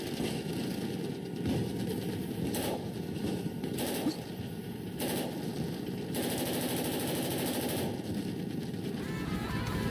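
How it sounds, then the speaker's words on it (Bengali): Many rifles fire at once in a visual novel scene, bursts of gunfire cracking in several sharp groups over a rumbling engine-like background. "হঠাৎ অনেকগুলো রাইফেল ফায়ার হয়।"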